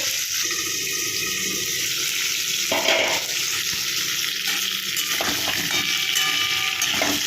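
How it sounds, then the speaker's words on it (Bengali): Potato and cauliflower pieces fry in a wok of oil, giving a continuous hissing sizzle broken by a few scraping, stirring knocks. "আলু ফুলকপি একসঙ্গে ভেজে রাখছি"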